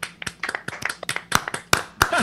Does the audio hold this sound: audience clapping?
yes